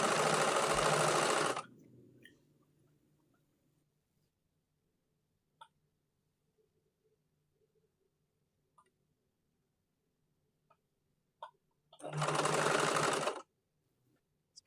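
A sewing machine stitches slippery satin fabric for a scrunchie in two loud, steady bursts of about a second or two each, one at the start and one near the end, separated by near silence with a few faint clicks.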